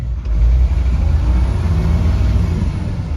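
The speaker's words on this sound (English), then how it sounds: "The school bus has a little bit of power." An old school bus engine revs on a farm, a loud, steady low rumble that holds for about three seconds with no talking over it.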